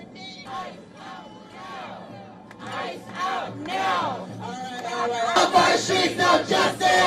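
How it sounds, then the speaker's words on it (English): Crowd of protesters shouting and chanting anti-ICE slogans, loud massed voices rising and falling in rhythmic waves, growing more intense toward the end. "The protesters chanted anti-ICE slogans"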